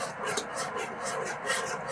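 Steady scraping and rubbing as a whisk works milk into a sauce for meaty mac and cheese, a continuous close rasp with a faint repeating sweep and no talk.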